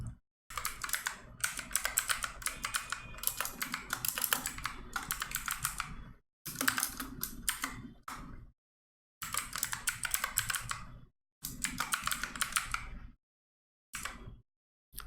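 Fast, close clatter of computer keyboard typing while code is written, coming in bursts of several seconds separated by brief silent pauses.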